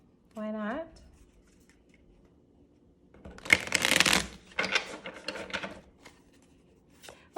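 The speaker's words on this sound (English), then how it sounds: "Let's give it another shuffle." Tarot cards are shuffled in a bright, papery riffle that lasts about two seconds, followed by softer shuffling and handling. A short spoken bit comes before it.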